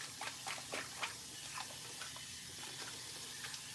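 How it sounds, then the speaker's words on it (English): Soft, steady stream of cool tap water running in a salon sink during a hair rinse, a quiet continuous wash with faint irregular splashes. "So I'm rinsing her for her final rinse with cool/cold water."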